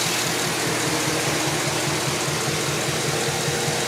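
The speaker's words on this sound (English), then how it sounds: "Has the Misfire on cylinder number 4." A 2009 Chevy Silverado with the 5.3 liter V8 idles with an active misfire on cylinder four, giving a steady close-up engine drone with an uneven, stumbling low pulse throughout and no voices.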